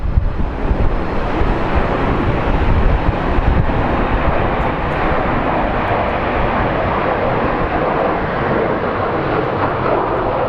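A fixed-wing airplane on approach to land at Phoenix Sky Harbor airport in gusty wind, a steady loud engine roar mixed with buffeting microphone wind noise that holds throughout.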